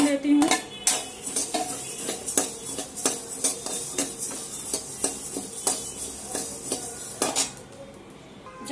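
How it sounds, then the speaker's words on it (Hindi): Coriander roasts in a dry pan as a metal utensil rapidly scrapes and clinks against it in close, repeated strokes, with a faint sizzle underneath. "अब मैं भूनूंगी धनिया, मैं आपका धनिया को भी भून लेती हूँ।"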